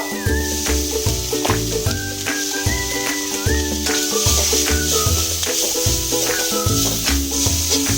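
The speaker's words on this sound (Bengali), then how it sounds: "ভাজা চিংড়ি মাছটা আমি এই মশলার মধ্যে দিয়ে একটু ভেজে নেব।" Prawns already fried with salt and turmeric sizzle steadily in a spice masala for a banana-flower prawn chop, a continuous soft hiss running under prominent background music.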